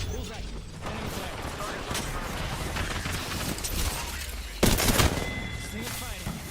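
Rapid bursts of gunfire from a shooter video game run on without pause, crackling under a dense bed of in-game noise, with a louder, sharper volley near the end.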